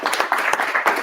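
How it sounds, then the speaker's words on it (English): A college business class applauding, a brief burst of close, dense hand clapping lasting about a second. "we can give a round of applause to Joe."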